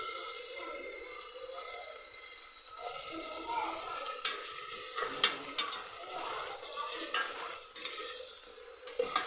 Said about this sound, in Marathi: तेल सुटेपर्यंत, कांदा चांगला नरम होईपर्यंत परतून घ्यायचं.